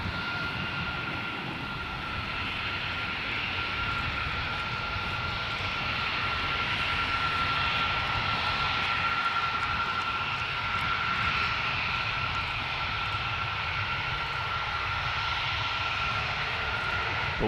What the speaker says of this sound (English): What an amazing looking aircraft.